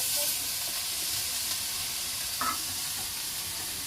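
Vegetables frying for a Bangladeshi chorchori curry in a village kitchen, with a constant close hissing sizzle and a brief clink of stirring partway through.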